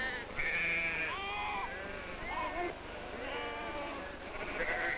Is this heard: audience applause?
no